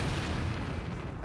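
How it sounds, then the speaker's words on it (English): A thrown Iga bomb detonates in the video game Nioh 2, a dense, sustained low rumbling blast that fills the whole moment with heavy booming energy and no speech. "throw a Iga bomb at him"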